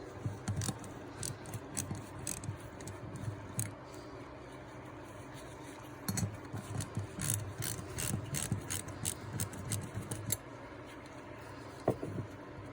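A ratchet with a 9mm socket backs out the shut-off valve seat of an ATV carburetor, giving several bursts of quick, close ratcheting clicks separated by short pauses.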